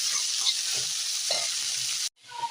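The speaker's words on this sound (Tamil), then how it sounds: "இப்போ அதில் நம்ம வெட்டி வச்ச கீரையை சேர்த்துக்கலாம். அதை நல்லா கிண்டி வச்சுக்கலாம்." Chopped greens are stirred in a frying pan with softened onions, a loud close sizzle with scraping strokes that cuts out abruptly near the end before resuming faintly.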